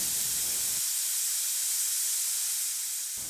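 A pressure cooker full of meat, aromatics and water releases steam while cooking broth. It makes a loud, continuous hiss that holds steady on its own and fades slightly at the end.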